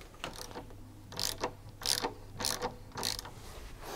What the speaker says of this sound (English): And carefully unscrew the two motor mounting bolts.